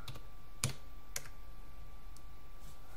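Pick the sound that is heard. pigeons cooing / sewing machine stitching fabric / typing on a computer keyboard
typing on a computer keyboard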